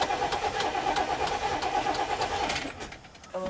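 A car engine struggles to start, cranking and sputtering in a steady medium-pitched drone for several seconds before it falters and drops off near the end.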